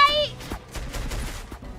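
Booming cannon fire in the Roblox game Dead Rails, sharp repeated blasts over a busy, noisy background, a few shots in quick succession.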